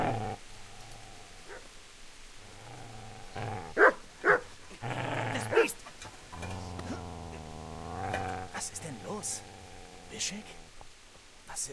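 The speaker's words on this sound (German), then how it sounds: "Ist das nicht der Köter des Fleischers?" A dog in the medieval video game Kingdom Come: Deliverance growls low and lets out several loud barks and whimpers. Game music and voices can be heard around the sounds.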